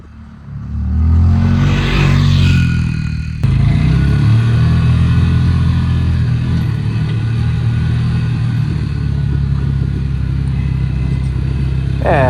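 An old Polaris Ranger 400 utility vehicle driven fast through snow, its engine revving up loudly and then holding a strong, steady drone close by, with rough rumbling and wind noise throughout.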